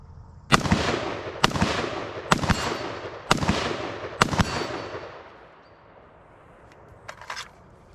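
IWI Tavor X95 rifle firing M193 55-grain brass-case ammunition at a range: five loud, sharp shots in a steady rhythm about a second apart, each with a short echoing tail, then quiet with faint handling clicks.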